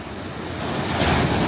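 Pacific Ocean waves wash steadily onto a California beach, a close, continuous surf roar that swells slightly louder toward the end, with wind noise on the microphone.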